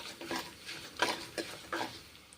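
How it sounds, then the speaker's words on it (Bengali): Two kinds of lentils fry in hot mustard oil with five-spice tempering, heard as a crackle under several sharp scrapes of a spoon against the pan, four or five distinct strokes close up. "এখন 2 রকম ডাল ভেজে নিচ্ছি।"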